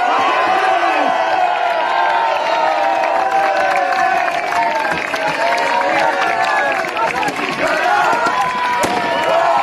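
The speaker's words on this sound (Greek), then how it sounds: "Ένα ζεστό χειροκρότημα στην πρώτη θέση." A crowd at a youth festival closing ceremony cheers, whoops and claps for the first-place winners, with loud overlapping voices and steady applause throughout.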